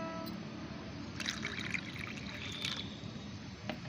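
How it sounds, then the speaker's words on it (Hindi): Plain water trickles and pours steadily into strained liquid plant fertilizer, a soft continuous liquid wash heard close up without talk. "जितना भाग आपने फर्टिलाइज़र लिया है उतना ही भाग आपको इसमें सादा पानी मिलाना है"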